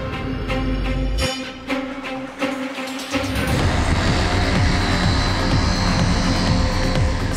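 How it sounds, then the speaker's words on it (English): An Airspeeder electric flying racing car, an eVTOL multirotor built for racing, screams past with a loud, steady high-pitched motor and propeller whine that briefly dips and then surges back at full intensity. "What we've done is merge an F1 car with a racing drone and turned it into something completely new."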